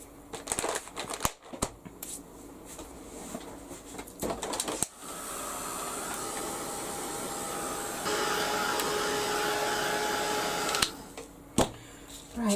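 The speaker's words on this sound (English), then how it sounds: "give this a blast with the heat gun" A heat gun blows hot air in a craft workshop, a steady loud roar that starts partway through, rises in strength midway, then cuts off near the end, with clattering handling noises before and after.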